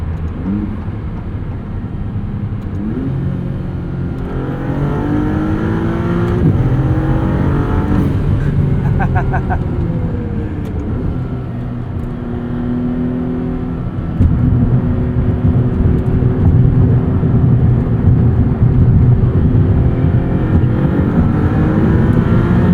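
Engine of a 2022 Maserati MC20 supercar accelerating, driven in manual mode: a loud, close, continuous roar that climbs in pitch through several gear changes, growing louder toward the end.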